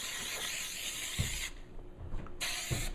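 Aerosol can spraying coating onto a vehicle trunk bottom during a Vision install, giving two long, loud hissing bursts with a short pause and light handling noise between them.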